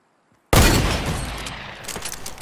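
Loud gunfire in a shooter video game: a sudden close blast after near silence, then a dense burst of rapid shots that slowly tails off into crackling reports.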